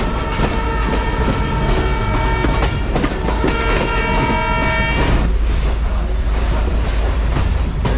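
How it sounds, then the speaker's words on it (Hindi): The Mohenjo-Daro passenger train running on main line rails, a loud continuous rumble with rhythmic wheel clatter and a sustained horn blast in the first half. "यहाँ से ट्रेन हमारी मेन लाइन 2 के ऊपर आ चुकी है।"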